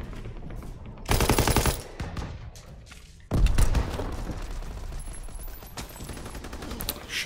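Call of Duty WWII battle gunfire: a loud burst of rapid machine-gun fire, a pause, then another heavy volley with thumping impacts continuing underneath.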